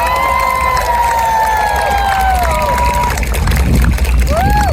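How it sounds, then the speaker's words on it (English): A loud crowd at a regiment museum show cheers and hollers in a large space, with whoops and shouts over a constant roar of noise. "By applause, by hoots and hollers and a clap of hands"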